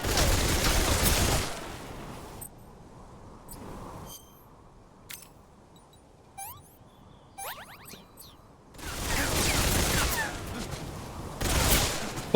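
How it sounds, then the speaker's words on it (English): Gunfire shooting at flowers in Metal Gear Solid Delta roars in dense, loud bursts at the start and end, with a quieter stretch of sparse clicks and chirps between them. "Boss, stop shooting the flowers."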